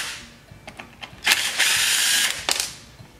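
A power driver or ratchet spins out Torx screws from a Stihl chainsaw, with short clicks and brief whirring bursts, then a sustained close buzzing run and a final quick burst.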